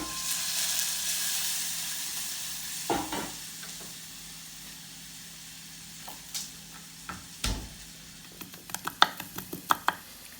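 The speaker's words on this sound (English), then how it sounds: "I'm not chopping up the garlic too finely" Garlic cloves being chopped on a board for homemade pizza, with a few soft knife taps early, then a quickening run of sharp close chops near the end over a quiet kitchen hiss.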